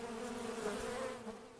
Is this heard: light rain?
no